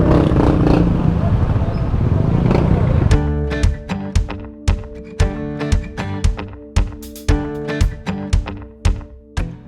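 A motorcycle engine on a raft crossing the Tinipak River in Tanay, Rizal roars in a rough, noisy rush up close, then settles into slow, evenly spaced chugging pulses.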